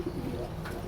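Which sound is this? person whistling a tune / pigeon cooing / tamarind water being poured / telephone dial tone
pigeon cooing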